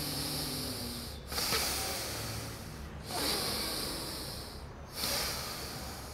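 Slow breathing in and out through the nose, three long airy breaths in a steady rhythm with brief pauses between, close and soft with no talking.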